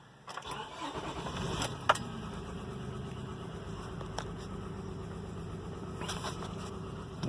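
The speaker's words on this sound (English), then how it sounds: "Let's go ahead and start this up, and I'll show you how the misfire sounds." A 2005 Honda Odyssey with a misfire, recently fitted with a new timing belt, cranks and starts, then settles into a faint, steady idle with a rough, rattly undertone, heard from nearby.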